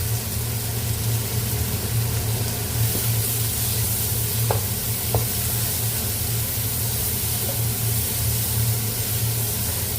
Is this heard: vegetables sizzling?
yes